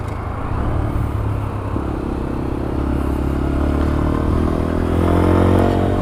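A 2016 Braaap Urban motorbike engine runs close by, a steady low droning rumble that swells a little louder toward the end, with faint mechanical clatter and no talking.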